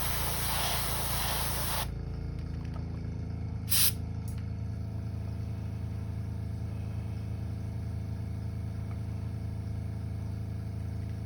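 An airbrush used to paint a custom shad crankbait hisses loudly for about two seconds, then cuts off, leaving a steady low compressor hum with a short sharp burst of spray midway.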